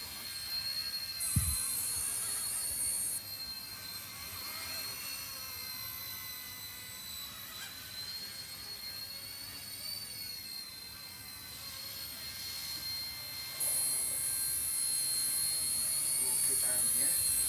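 An RC-ERA C138 Pro RC helicopter flies outdoors in wind, its thin high-pitched motor whine holding steady for the whole stretch, with one small thump near the start and a rise in pitch toward the end.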